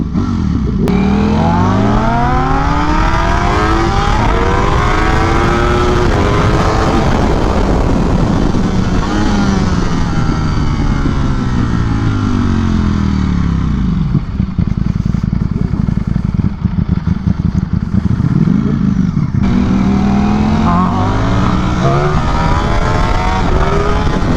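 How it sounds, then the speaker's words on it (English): A Ducati Streetfighter V4S and a BMW S1000RR with a full Akrapovic exhaust race side by side, engines screaming loud and close through repeated rising and falling revs as they shift through the gears, with a sustained mechanical roar throughout. "that's a BMW S1000RR with a full Akrapovic exhaust system"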